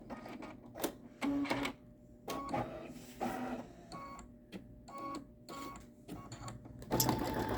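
An embroidery machine stitches a design in bursts of rapid mechanical clatter broken by short pauses, steady and close, with no one talking over it.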